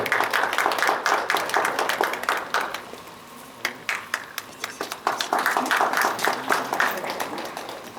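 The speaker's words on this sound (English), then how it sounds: "Let's applaud." Audience applause at a school ceremony, steady clapping from a crowd that dips briefly and then swells again, fairly close.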